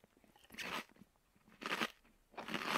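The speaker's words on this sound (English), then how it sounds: "It looks like pasta. It's some crunchy pasta." Three loud, close crunching bursts of chewing crunchy pasta in the video game Bad Parenting, spaced roughly a second apart with quiet gaps between.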